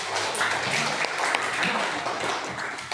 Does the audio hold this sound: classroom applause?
yes